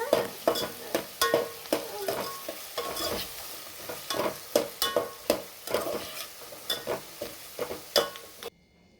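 Brinjal stir-frying in oil sizzles under repeated rhythmic scrapes and stirs of a spatula in the pan, roughly two strokes a second, loud and close, ending abruptly.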